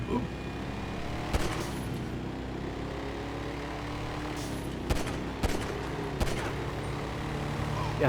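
Gunfire from bikers in GTA, a few sharp isolated shots spread over a steady background rumble of city traffic, fairly faint and without talking over them.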